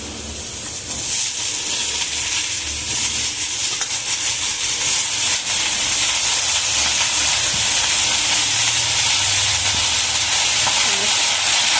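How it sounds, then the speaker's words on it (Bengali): Pumpkin greens hit a hot pan of fried coconut and sizzle loudly. The hiss is close, steady and continuous from start to end, with faint stirring underneath and no talk. "এবার আমি এই শাকগুলোকে দিয়ে দিচ্ছি। এই শাকগুলোকে দিয়ে দিলাম।"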